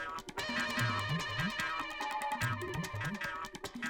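A phone rings unanswered, with a repeating melodic ringtone sounding in two bursts over a faint background, fairly quiet and with no speech.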